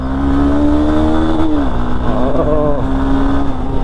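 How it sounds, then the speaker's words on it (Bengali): A Honda Hornet 2.0 motorcycle engine drones loudly and close with a continuous exhaust note. The pitch shifts a couple of times as the revs rise and settle, with no voices over it. "ইঞ্জিনের ডাক শুনছেন? এক্সস্ট নোট অস্থির।"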